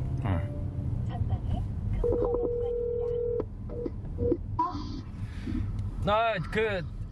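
Telephone call being placed: a steady dial tone holds for over a second, then short tonal beeps of dialing follow, amid people talking in a room.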